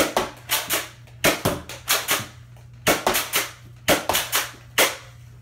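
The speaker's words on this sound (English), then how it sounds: "that's 15 rifle rounds out of the Roundhouse XX1500" Rifle rounds fired from a Roundhouse XX1500 crack out in sharp, loud bursts, some single and some in quick doubles and triples, with brief gaps between groups and no talking.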